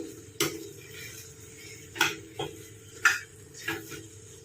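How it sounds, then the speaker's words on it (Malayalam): Cut mushrooms being stirred into tomato masala in a pan, heard as a handful of distinct clinks and scrapes of a spoon against metal, spaced irregularly over a quiet, faintly hissing background. "മഷ്റൂം ഇട്ട് നന്നായിട്ട് മിക്സ് ചെയ്തു"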